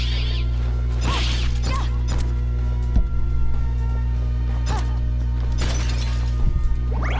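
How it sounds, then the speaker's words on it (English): Candles being smashed in the video game Bloodstained, heard as a series of brief, sharp shattering crashes and swishes at irregular intervals over a steady low game hum. "smashing candles"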